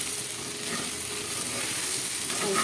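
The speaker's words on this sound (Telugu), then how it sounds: "అది కూడా ఒక్క నిమిషం వేగనివ్వండి. వేగేంత వరకు కొంచెం కలిపండి." Chili powder and turmeric sizzle steadily in hot oil while being stirred, a close, continuous frying hiss with soft scraping throughout.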